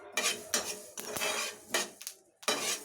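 Fenugreek seeds dry-roasting in a metal pan are stirred in rhythmic bursts of scraping and rattling. Loud, close strokes come in repeated pulses with short pauses between them.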